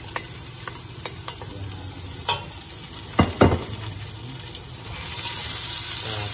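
A small onion frying in a pan, giving a steady soft sizzle with a few louder stirring clatters midway, alone without talk.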